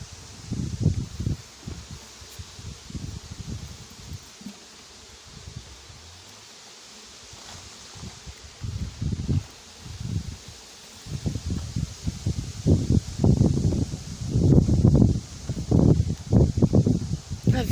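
Wind gusts buffet the microphone in low rumbling bursts at a beehive apiary, with a faint buzz of bees in the background.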